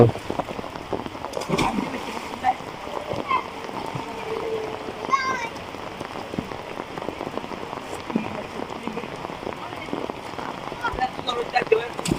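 Monsoon rain pours steadily over flooded village ground in Noakhali, Bangladesh. A dense, continuous patter of drops fills the whole stretch, with faint children's voices now and then underneath.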